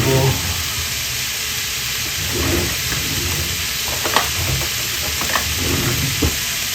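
Meat sizzling in a pan for Bicol Express, salted to draw out its liquid, with steady frying hiss and occasional scrapes and clinks of a utensil stirring it, close and continuous.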